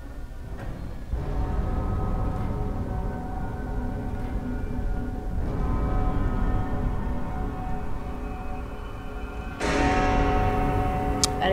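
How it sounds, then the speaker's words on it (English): A big clock tower bell in The Room Three game tolls heavily, its deep ringing tone swelling and sustaining with a few fresh strikes, loud and alone with a long resonant hum between hits. "That is a big bell."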